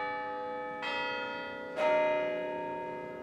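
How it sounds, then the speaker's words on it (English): Two deep church bell strikes with a static bell and swung clapper ring out about a second apart, each leaving a long, resonant hum that slowly fades. "ringing is a way that we can make music from the sounds of bells"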